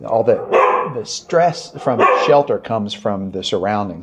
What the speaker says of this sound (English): Like if you can hear that other dog barking